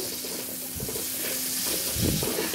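Onions fry in oil in a kadai, a steady close sizzle broken by a couple of scraping stirs.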